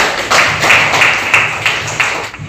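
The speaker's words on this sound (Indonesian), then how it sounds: "Tepuk tangan untuk kalian semuanya." Children clapping their hands in a classroom at the end of a lesson, a run of sharp, fairly close claps in an uneven rhythm over a steady background hum.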